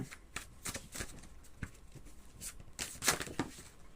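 Tarot cards are shuffled and handled close by, giving a run of soft papery riffles and flicks with a few sharper snaps, and no speech over them.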